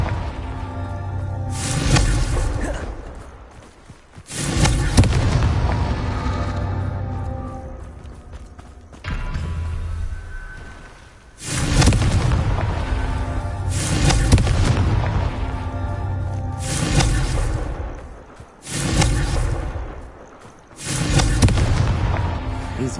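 Confringo fire spells blasting in Hogwarts Legacy on PS5, with about six loud booming explosions, each rumbling and fading out before the next.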